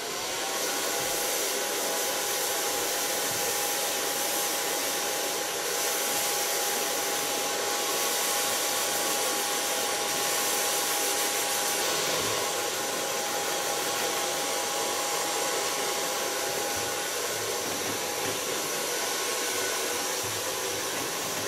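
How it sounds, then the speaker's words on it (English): A hair dryer blows steadily and close at full strength while hair is dried with a small brush, a continuous loud whoosh with no one talking. "Now I start with blow drying with a small brush and then roughen it up with my hands."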